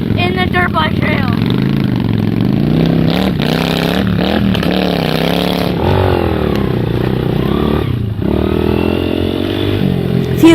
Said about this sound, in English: He's riding with me in the dirt bike trail.